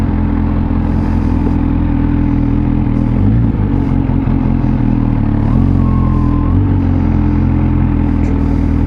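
A 2020 Kawasaki Z H2 supercharged hyper-naked motorcycle engine runs loud and close, a steady idling rumble with a few blips of revving in the middle.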